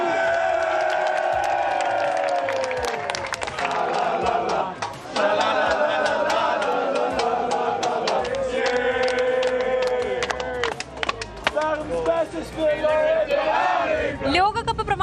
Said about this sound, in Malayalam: പാട്ടുപാടിയും കൈയടിച്ചും കൗബോയ് ഹൗഡിനിയുടെ പ്രവചനം ആഘോഷമാക്കി.